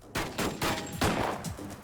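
A rapid series of sharp gunshots fired by armed men outside a bank cracks out close by, several overlapping bursts over about two seconds.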